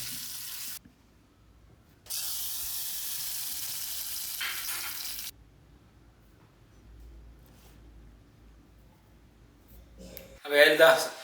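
Mustard seeds and dried chillies sizzle in hot coconut oil in a home kitchen, two loud bursts of crackling frying separated by quieter gaps. A brief clatter comes near the end, with no talk.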